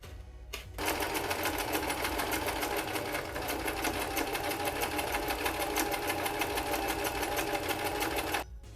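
Sewing machine running continuously at steady speed, zigzag stitching tote bag seams, close and alone, with a fast even rhythmic whir that starts and stops abruptly.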